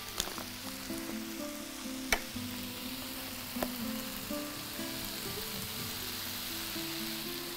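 Vegetables sautéing in a pan for a Tamil home-style dish, a steady close sizzle and crackle throughout with a couple of brief clinks of a stirring spoon against the pan.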